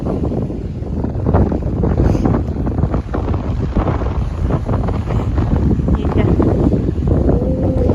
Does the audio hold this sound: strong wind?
yes